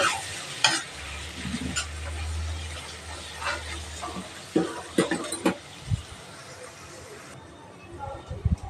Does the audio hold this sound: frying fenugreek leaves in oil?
yes